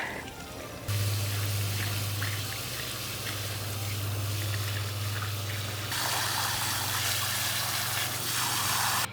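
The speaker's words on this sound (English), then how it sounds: "I'm gonna water it until it can't take any more." Water gushes steadily from a hose or can onto a newly planted Gabriel Oak English rose, a close, continuous splashing and pouring that begins after a second and changes tone partway through.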